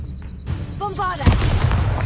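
A Bombarda explosion spell in Hogwarts Legacy bursts out as a single loud, close blast with a sharp attack and a brief rumbling tail, just after a short chime-like tone.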